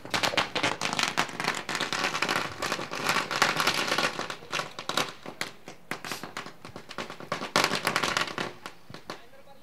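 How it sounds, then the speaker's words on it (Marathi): Fireworks set off for guests at a cricket match in Umbarde, a dense run of sharp crackling bangs and pops that keep going without a break for the whole stretch, loud and close, with a faint voice under the noise. "सध्या पाहुण्यांसाठी फटाक्यांची आतिषबाजी"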